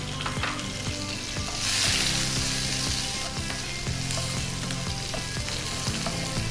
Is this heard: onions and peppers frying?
yes